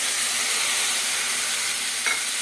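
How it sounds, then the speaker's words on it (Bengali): Vegetables fry in a pan after a paste of coriander, cumin, salt, turmeric, ginger and chili powder is added, giving a steady, close hiss with a brief louder sizzle near the end. "সবজিটা আমার ভাজা হয়ে গেছে, এবার দিয়ে দেবো আমি মশলা"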